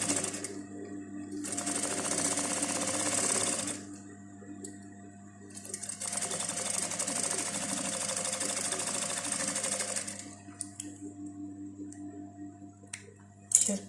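Sewing machine stitching the waistband onto a pair of classic trousers in non-stretch fabric, two sustained runs of steady rapid whirring separated by pauses, close and fairly loud, with no talking.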